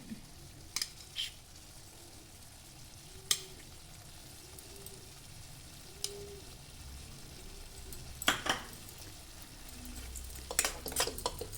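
Ridge gourd curry with green chilli paste is stirred in a pan, with a quiet sizzle and scattered sharp scrapes and clinks of a spoon against the pan.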